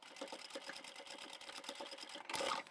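A sewing machine stitches across a zipper, fabric and two layers of webbing on a crossbody satchel, running in a steady, close, rapid rhythm that swells slightly louder near the end.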